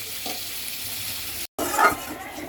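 A fish and tomato curry for a baby bubbles and sizzles in a pan, with soft stirring scrapes, a momentary cutout, and a louder stir midway through.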